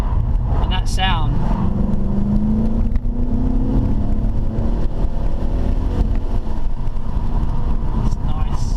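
A Ford Mustang GT with a 5.0 V8 pulls out of a junction, its engine note rising steadily as it accelerates, heard from inside the car under continuous road and engine rumble.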